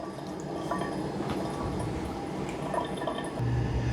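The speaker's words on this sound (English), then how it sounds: "It does start brewing coffee right away." A Gourmia drip coffee maker brewing, a continuous soft gurgling and dripping hiss of water trickling through, close and quiet, with a low burble rising near the end.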